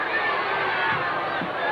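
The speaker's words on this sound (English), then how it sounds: "The groans from the crowd." Spectators at a 1992 Keighley versus Batley rugby league match let out a broad, collective groan, a dense crowd murmur filling the stand.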